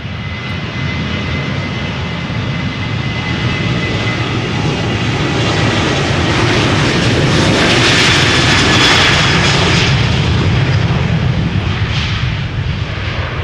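A KLM Boeing 737-800 takes off from Amsterdam Schiphol in a loud, continuous jet roar heard close up, with the engines building to a broad hissing peak and then sustaining.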